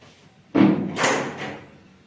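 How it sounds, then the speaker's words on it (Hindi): A cat knocking on a door at home: after a quiet moment, a sudden close wooden thump followed by a softer rattling knock that fades out, with no speech. "दरवाजा खटखटा रही थी।"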